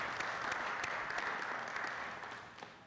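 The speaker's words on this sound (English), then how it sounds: "let's give these guys a big round of applause" Audience applause fills a city council meeting chamber, a steady wash of many hands clapping with a few sharper claps standing out, holding even before thinning and fading toward the end.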